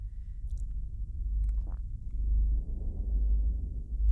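A lawnmower recording slowed and pitched far down into a deep, rumbling drone, low and continuous with a gently swelling, wavering texture, heard alone without talk.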